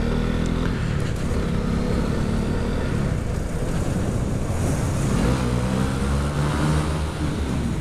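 Motorcycle with its stock exhaust accelerating on the road, a steady loud engine drone with rising revs and wind noise throughout, no talking.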